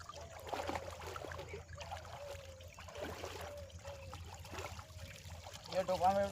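Water runs and splashes while a motorbike is washed, a soft, steady trickle beneath people talking nearby, growing briefly louder at the end.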